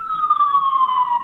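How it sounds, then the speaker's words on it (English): An emergency siren wails on a New York street, one loud, close, slowly falling tone held steady over a second. "Oh, that's the siren."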